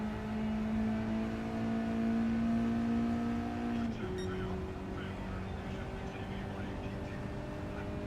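Car engine in a driving video game holds a steady droning tone, then drops pitch sharply midway as if shifting gear, continuing at a lower steady hum.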